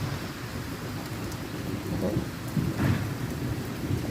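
Thunder rolls through a strong, highly electric spring storm in Linselles, France, a steady low rumble mixed with falling rain and the noise of rubbish bins, swelling toward the end, with no voices.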